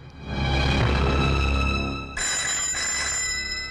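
A telephone rings loudly and insistently, a continuous electronic trill that shifts pitch partway through, with no one talking.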